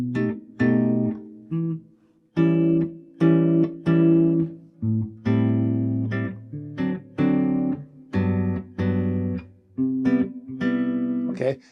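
A jazz guitar plays a standard, alternating single bass notes with chords in short, clearly separated strokes, a moderate, even pattern of plucked notes with brief gaps between them.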